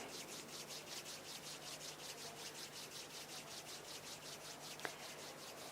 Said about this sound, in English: bring the palms of your hands together at chest level and rub them gently against each other.